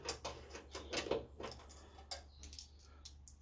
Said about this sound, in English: So I'm going to take the weight here and undo this bolt here.